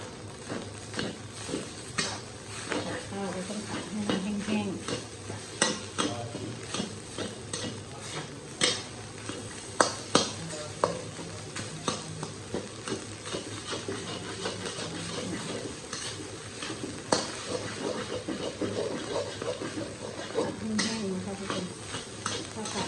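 Rice stir-fried with vegetables and pork in a pan gives a steady close sizzle, broken by constant spatula scrapes and sharp metallic clanks, with no voices.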